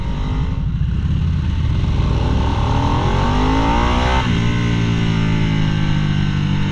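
A new Harley-Davidson motorcycle engine revs up close and loud, its pitch climbing steadily through acceleration before a brief dip and another rising pull.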